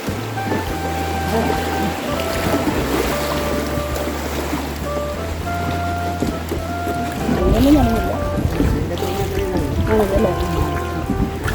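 A rowboat on a river in the Philippines, worked by two boatmen, churns along with low, droning rumble and splashing water, wind and wave noise around it, plus faint tonal sounds throughout.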